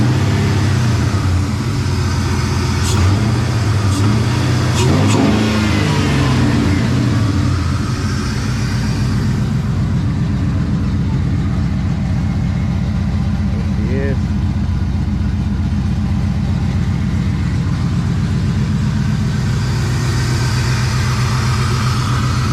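A 1999–2006 Chevrolet Silverado with a five-speed manual and an eBay cold air intake revs a few times early on, a deep rising engine note that then settles into a steady low idle rumble, with a voice briefly in the background.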